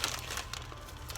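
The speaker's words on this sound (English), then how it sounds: "Get it in there, and then you squeeze out all the air." A plastic Ziploc freezer bag holding cooked black-eyed peas crinkles steadily as air is squeezed out by hand, a close, continuous rustle with soft crackles and no talk.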